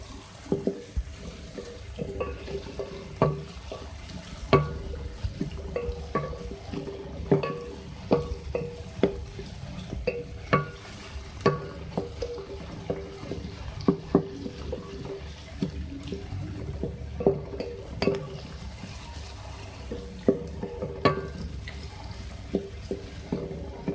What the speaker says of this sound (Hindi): इसको हम फ्राई करेंगे